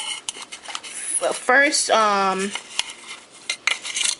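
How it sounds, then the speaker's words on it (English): A fork clinks against a bowl while Haitian-style conch (lambi) ingredients are mixed, giving light, scattered taps, with a person speaking in the middle. "with a fork, and mix it together"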